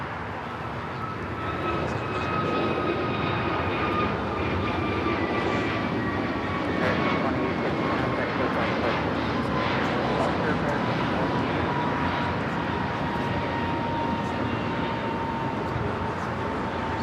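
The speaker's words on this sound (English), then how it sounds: "Next takeoff here on the south side is American Airlines flight 2850, an A321 Neo heading to Philadelphia." An American Airlines Airbus A321neo jet takes off from the south side of LAX, its engines roaring steadily and loudly for the whole stretch after a brief quieter start, with faint tonal whine above the broad rumble.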